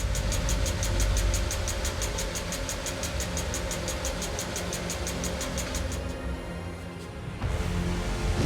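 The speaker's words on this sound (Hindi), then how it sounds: "पहले इंजन को डीजल से चलाया जाता है।" A diesel combustion engine runs steadily at idle, giving a continuous close drone with a regular knocking pulse, then briefly dips and returns at full level near the end.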